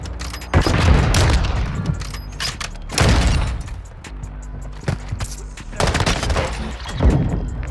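Gunfire in a shooter video game comes in several loud bursts of shots and impacts, spaced a few seconds apart with quieter game noise between them.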